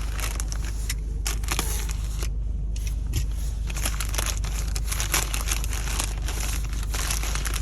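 Crinkling and crumpling of parcel packaging being torn open, close and continuous, with sharp bursts of rustle and tearing throughout.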